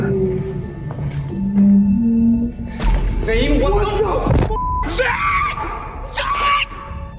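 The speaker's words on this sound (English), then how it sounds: "they hear what almost sounds like a loud wailing moan from somewhere very close by" A loud, drawn-out wailing moan rises and falls close by, mixed with startled voices, gasps and a heavy thump.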